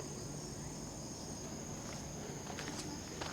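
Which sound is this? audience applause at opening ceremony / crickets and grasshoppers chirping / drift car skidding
crickets and grasshoppers chirping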